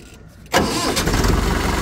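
A large diesel tractor engine cranks and catches abruptly, then settles into a loud, steady rumbling idle close by.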